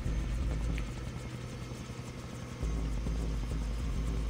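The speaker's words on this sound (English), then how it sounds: "1, 2, 3, 4 vehicles and a helicopter." A helicopter in the Far Cry 3 video game, arriving among several vehicles, produces a steady, loud, low engine rumble and rotor drone that continues throughout.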